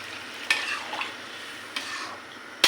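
A little water is poured into a pan of cooking bottle gourd, giving a steady hiss and gentle sizzle broken by a few sharp utensil taps and scrapes against the pot.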